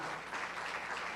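A congregation at a church conference applauds, giving a short burst of steady, dense clapping from a room full of people that stays even throughout, fairly quiet and with no voices over it.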